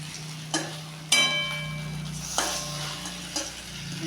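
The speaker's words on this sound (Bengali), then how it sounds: "অল্প অল্প করে ভাজিয়ে নিই।" Lentil fritters frying in a wok: a steady low sizzle of hot oil runs throughout, broken by a few sharp clinks and taps of a utensil against the pan.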